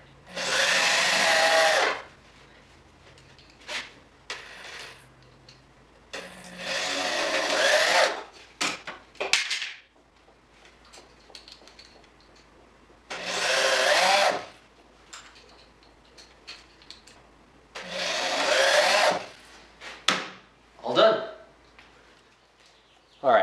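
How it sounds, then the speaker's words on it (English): A drill bores pocket holes through a Kreg pocket hole jig while a DIY workbench is built. Several separate whining bursts of a few seconds each are heard up close, with quiet gaps and a little speech between them. "we're going to take the Craig tool pocket hole jig and just make some pocket holes so we can get the workbench on here"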